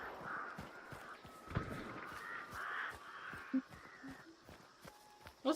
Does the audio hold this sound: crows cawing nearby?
yes